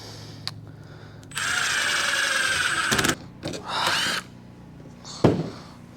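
A power drill bores pocket holes through 1x2 boards clamped in a pocket hole jig, a loud whining burst of a second and a half, then a shorter second run and a knock of wood.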